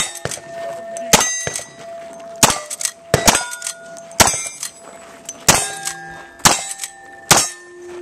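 Sharp, loud shots ring out one after another at a cowboy action shooting stage, about ten in total with metallic clangs from the steel targets, coming in quick irregular bursts.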